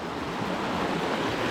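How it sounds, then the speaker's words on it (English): A small creek flows through a massive cave, giving a steady, dense rush of water that stays even and fairly loud from start to finish with no voices. "There's a little creek that flows through it."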